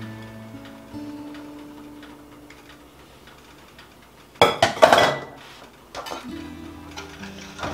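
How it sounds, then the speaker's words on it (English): A whisk clinks rapidly against a pot while apple pie filling with clear gel is stirred together, a quick metallic tapping that grows louder and busier in a burst midway, then settles into lighter clinks. "I'm just going to whisk this together and begin heating that up"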